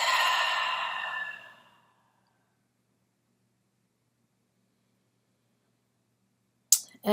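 A single long exhale during a guided meditation, airy and soft, fading out over about two seconds, then near silence until a brief sharp sound at the very end.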